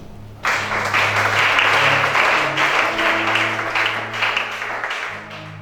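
A church congregation breaks into loud, sustained applause at a worship service, a dense wash of clapping that starts abruptly and carries on for several seconds, with a low hum of voices and tones beneath it.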